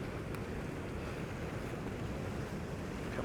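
Sea water sweeps out of a coastal channel, with a continuous broad rushing wash mixed with wind buffeting the microphone, steady and fairly loud throughout.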